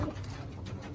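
Roller pigeons in a loft give soft, low cooing murmurs, faint and close, with light rustling and no one speaking.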